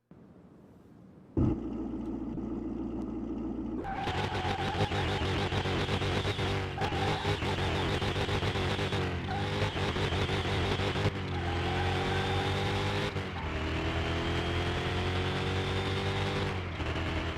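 Dodge Challenger in Car Mechanic Simulator 2021 roaring at top speed, a loud sustained engine drone with rising gear-by-gear pitch sweeps and brief shift dips, continuous and close with no talk over it.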